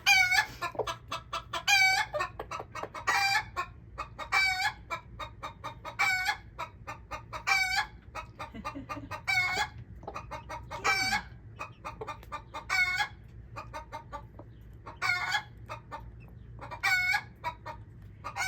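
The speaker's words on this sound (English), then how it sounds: "What you making such a ruckus for? See, they're digging for food." Chickens cluck and crow in short bursts around a mother hen with her week-old chicks as they scratch and dig for food in the dirt of a greenhouse; the calls come close and moderately loud over a low steady background hum.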